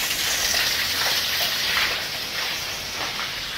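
Water pouring and gushing steadily inside an abandoned prison building, a continuous broad wash of noise with no break across the whole stretch.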